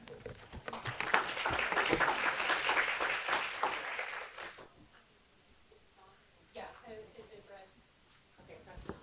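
Audience applause welcoming a speaker at a real estate summit session, a dense burst of clapping for about four seconds that fades out, followed by quieter talk from the stage.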